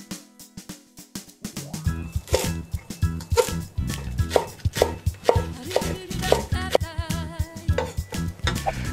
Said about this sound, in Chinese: 葱白呢会切碎，然后跟着洋葱一起炒进去